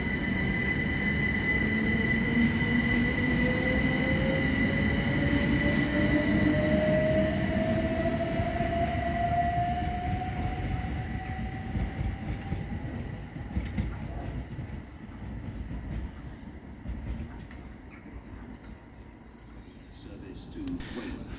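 A Southern Railway class 377 electric passenger train pulls away from Havant station, its motor whine rising steadily in pitch over a constant rumble, with faint birds in the background.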